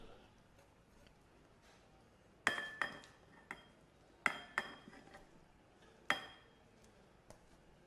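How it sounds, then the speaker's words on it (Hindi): Cooked potato filling for crispy aloo kachori being moved into a large cooking vessel, heard as a few sharp metallic clinks and scrapes of a utensil against the pot, clustered in three bursts with quiet gaps between. "अब एक बड़े साइज़ का बर्तन ले लेंगे और उसके अंदर इसको ट्रांसफ़र करेंगे।"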